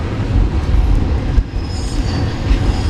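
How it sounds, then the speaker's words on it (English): A train rolls past close by, its loud, continuous low rumble of wheels and cars carrying on throughout, with no voices heard. "It's always neat to watch the train go by."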